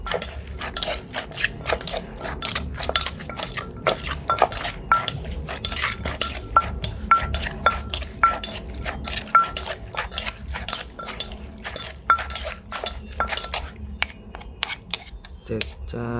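Som tam papaya salad, Korat style, is tossed and mixed in a mortar. Rapid, rhythmic clinks and knocks of utensil against the mortar repeat closely for the whole stretch, with no speech.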